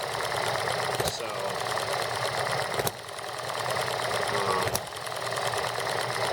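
A small horizontal model steam engine runs slowly with a steady rapid mechanical clatter and three sharp periodic clanks spaced about two seconds apart, close and continuous.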